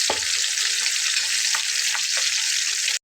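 Three fish fry together in oil in a pan over a medium flame, giving a loud, steady, dense sizzle throughout with a few faint clicks and pops, no talking.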